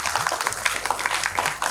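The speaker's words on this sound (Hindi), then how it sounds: "तो पहले सबके लिए एक बार तालियां बजा दीजिए" Audience applause at a Hindi kavi sammelan, a brief, moderately loud patter of many hands clapping together from a crowd in a hall.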